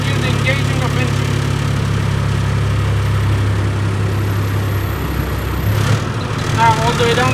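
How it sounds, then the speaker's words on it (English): Semi truck tractor diesel engine running steadily in second gear as the clutch is slowly released, a loud, constant low rumble with a slight shift and dip in tone near the end. "slowly release the clutch until you hear the engaging of engine"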